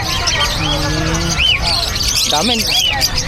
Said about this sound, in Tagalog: Daming ibon na naman ni Boss Marvin, no?